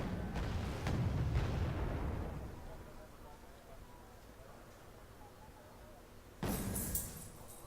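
Tank cannon fire rings out in the Wargame: Red Dragon video game, with heavy booming shots and rumbling decay at the start, a quieter stretch, then another sharp blast near the end.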